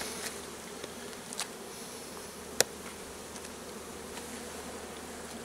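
Honeybees swarm across every frame of an opened Layens hive, a dense, even buzzing that continues without pause, with a few small knocks and one sharp click.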